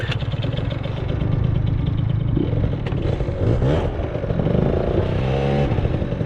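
A wheeling scooter's small engine starts up and revs in loud, uneven bursts with mechanical clatter, the pitch rising and falling through several throttle blips up close.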